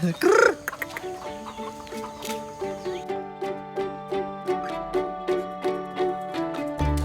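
Chickens on Samosir Island, Lake Toba, Indonesia, cluck in a steady, repeating rhythm, fairly close, after a brief loud squawk at the start, with no talk over them.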